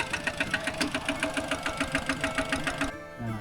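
A rural tractor engine runs with a fast, rhythmic knocking chug, loud and close, pulsing evenly for about three seconds before cutting off abruptly.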